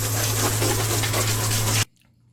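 A bucket of rinse water pours out in a loud, steady rush close by, lasting just under two seconds before cutting off sharply into quiet.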